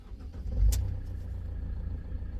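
Camper van engine starting after a repair: a short cranking burst, then the motor catching and settling into a steady low idle, close by, with no talk.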